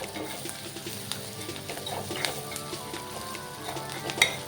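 Fish innards frying with browned onions in a pan, a soft continuous sizzle with light stirring and occasional small clinks of utensil against the pan, close by.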